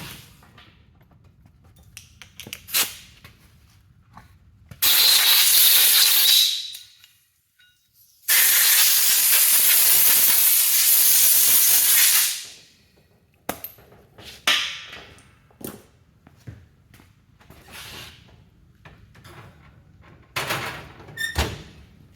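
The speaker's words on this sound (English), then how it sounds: "So I'm going to give this a quick blow job here with the compressed air" Two long, loud bursts of compressed air blow off a part for a Ford 9-inch differential center section, set among clanks, knocks and handling thuds in a workshop.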